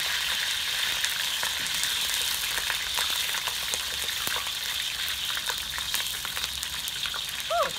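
Lemongrass frying in hot oil in a wok over low heat, a steady broadband sizzle with crackling pops throughout, close and continuous with no voices.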